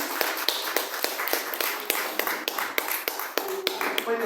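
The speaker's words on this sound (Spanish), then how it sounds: "hoy le damos un aplauso a Angie." Applause at a certification course on caregiving held at a women's justice center: a small audience claps in crisp, evenly spaced beats, fairly near, with no voices over it.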